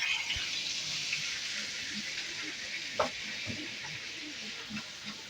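Onions frying in a pan, a steady bright sizzle that holds throughout, with a few soft clinks and stirring bumps on top and quiet speech in the background.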